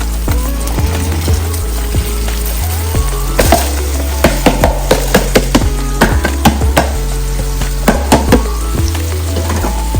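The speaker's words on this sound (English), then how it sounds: "Now I'm gonna go ahead and pour the rice in." Loud, steady sizzling as rice is poured into a hot pot for Jamaican tin mackerel seasoned rice, broken by sharp clacks and scrapes of stirring.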